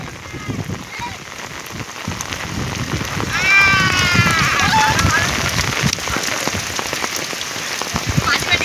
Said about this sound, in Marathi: इथं पाऊस आता बेकार झालेला आहे